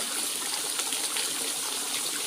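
A waterfall behind Nong Khu Bian temple at Ban Ang, Na Tan subdistrict, flows over rock ledges in a steady, even rush of splashing water, close and continuous, with no voices.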